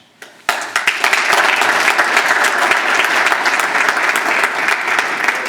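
Sustained applause from a crowd at an outdoor ribbon-cutting ceremony, dense steady clapping that starts abruptly and continues at full strength throughout, with no talking.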